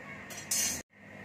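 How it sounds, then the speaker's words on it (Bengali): Fried luchi lifted onto a metal plate, giving a brief metallic clink and scrape that stops abruptly, quiet and close. "এবার আমি থালার মধ্যে তুলে নিচ্ছি।"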